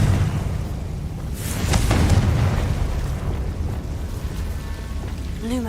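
A Confringo spell detonates in Hogwarts Legacy, a muffled booming blast swelling over a dense rumbling game ambience, with a brief sharp crackle near the start and no talking.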